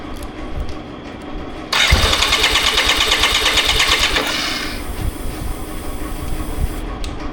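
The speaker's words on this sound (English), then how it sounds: "So maybe I'm gonna give another crank to make sure." A BMW K75RT motorcycle that had sat unused for nine years, with idle problems: starter cranking, then a loud rhythmic whirring grind for a couple of seconds that settles into the running engine, close by.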